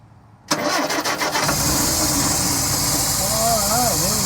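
A Standard Vanguard Phase 1 car engine with the choke on cranks briefly and catches, then settles into a steady, loud idle close by, with a voice speaking faintly over it near the end.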